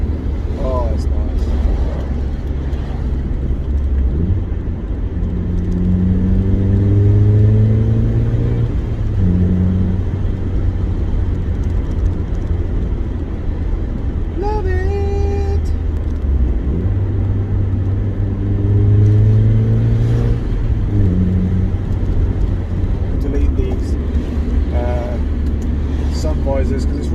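A Mazda MX-5 cruises down the road with a constant low engine and road rumble. Pitch sweeps rise and fall with each speed-up and gear change, and people talk now and then over the drone.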